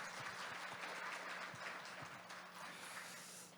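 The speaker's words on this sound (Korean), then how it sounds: "다시 한번 큰 박수 부탁드리겠습니다" Applause from the audience at a public education forum in Seocho district, a faint, distant, steady patter of many hands clapping that fades slightly toward the end.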